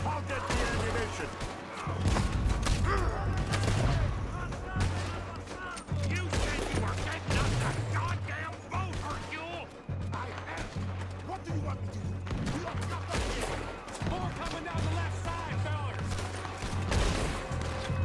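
Heavy gunfire and a fusillade of shots ring out through a chaotic Red Dead Redemption 2 battle, with cannon preparations, horses and crashes, while characters shout orders over the steady clatter.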